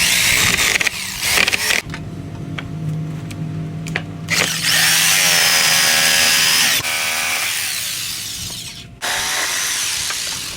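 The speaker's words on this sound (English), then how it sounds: "now we'll just take our jigsaw and cut these out" A jigsaw cuts through wood in loud, close buzzing bursts, starting and stopping several times with brief pauses between runs.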